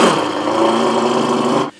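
A voice imitates a car engine, producing a buzzing, rumbling revving tone for under two seconds before cutting off abruptly.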